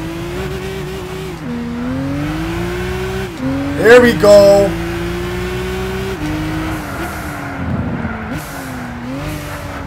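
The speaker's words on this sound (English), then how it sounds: "Listen to that turbo just kicking right now." Race car engine in the Gran Turismo video game, a steady droning tone that shifts pitch with gear changes and turbo spool, with a brief louder burst midway and someone speaking briefly over it.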